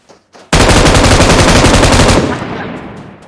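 A shotgun fires in a video game: a loud, sustained burst of rapid, closely spaced blasts lasting under two seconds, then a fading echo.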